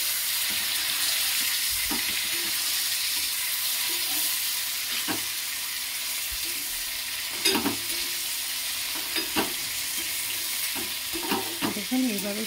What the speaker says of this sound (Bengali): কড়াইয়ে মাছ ছেড়ে মাছটাকে একটু ঘুরিয়ে নেবেন